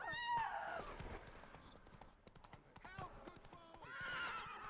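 Roach, the horse in The Witcher 3, trots with steady clip-clop hoofbeats and whinnies loudly at the start and again near the end, with someone talking over the sounds.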